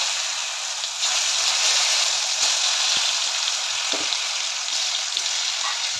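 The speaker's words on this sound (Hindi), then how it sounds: "एबे ए तेल रे कदली जाक भाजी नेबी" Raw plantain pieces frying in hot oil, a steady close hiss of sizzling that holds throughout with no talk.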